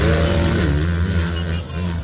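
Motorcycles race past in a Philippine motorbike contest, one a 150 cc machine against a larger bike, engines revving loud and close in a sustained, rising and falling drone.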